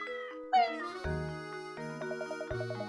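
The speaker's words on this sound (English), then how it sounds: "What's this cat doing here?" A cat gives one short, rising meow in the video game Professor Layton and the Curious Village, heard near the start over the game's gentle melodic music.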